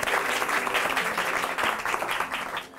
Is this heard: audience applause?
yes